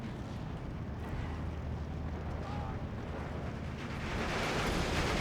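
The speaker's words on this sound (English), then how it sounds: "unfortunately we got hit with artillery fire" Artillery fire in the WWII strategy game Steel Division 2 rumbles as a dense, continuous low roar of explosions that swells louder toward the end.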